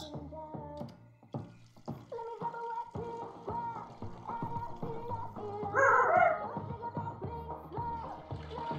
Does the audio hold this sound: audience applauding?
no